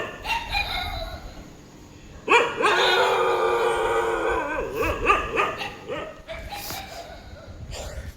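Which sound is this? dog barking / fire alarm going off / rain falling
dog barking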